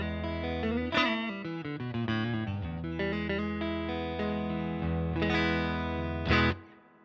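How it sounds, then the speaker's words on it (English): Electric guitar played through a small Fender amp on a clean, sparkly setting with reverb, treble and bass at 5 and tremolo off; a sustained chordal phrase rings out alone with a final strummed accent. "Nice classic Fender, sparkly clean sound."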